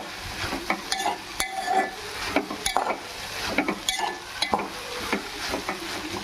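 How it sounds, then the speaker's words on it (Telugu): Okra (bendakaya) fries in a pan while a spatula stirs it, with repeated close scraping and clanking strokes in an uneven rhythm over a soft, steady sizzle. "బాగా మధ్య మధ్యలో తిప్పుకుంటూ ఉండాలి"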